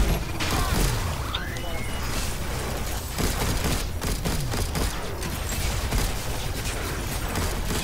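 Dense gunfire and explosions from the co-op shooter game Alienation in hardcore mode, rapid overlapping shots and mechanical clatter filling the mix, with voices talking over it.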